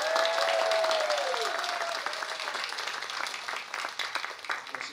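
A concert audience at a choir performance breaks into loud applause that swells at first and then gradually thins out into scattered clapping.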